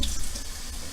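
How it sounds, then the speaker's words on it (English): Filtered tap water runs from a faucet over a sausage being rinsed in a kitchen sink, a steady close splashing hiss for about a second with no voices. "we're gonna go ahead and rinse this little sausage off."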